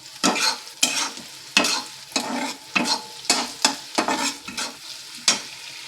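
Onions frying golden brown in a pan while being stirred firmly, with a steady sizzle broken by about a dozen rhythmic scraping strokes at close range and no talking.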